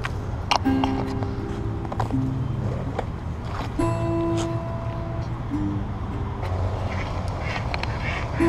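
Ducks quack intermittently nearby, scattered calls over a steady outdoor background with occasional knocks and splashes.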